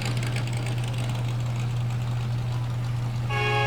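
Steady low engine rumble from a custom car's exhaust at an evening cruise, loud and continuous, with a horn blaring in near the end.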